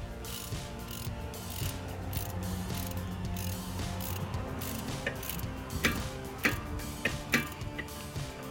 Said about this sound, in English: So I hand threaded the fill plug in already, and then we're tightening it in.